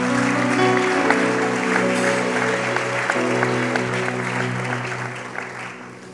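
Steady, dense applause from a large congregation at an evening prophetic teaching, sustained and fairly loud throughout with no voices over it, gradually easing slightly toward the end.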